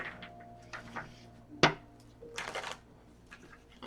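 A short burst of tarot cards being riffled and shuffled close by, with a sharp snap in the middle and soft handling sounds around it.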